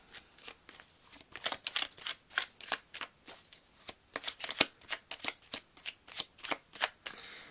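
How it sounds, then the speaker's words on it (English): A deck of tarot cards riffled and shuffled in quick repeated bursts, each crisp papery flutter close and distinct, in a steady rhythm with brief pauses between runs. "While I was shuffling"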